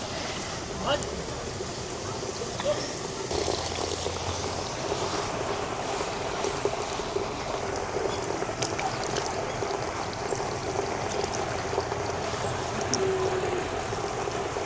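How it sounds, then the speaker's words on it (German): Water is poured over the hands in Japan, giving a steady, close splashing and trickling that runs the whole length, while a person talks over it. "sich das einfach über die Hände zu gießen"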